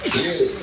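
A single sharp sneeze bursts out indoors amid casual conversation, a quick explosive burst followed by soft voiced trailing, close to the listener with talk and laughter around it.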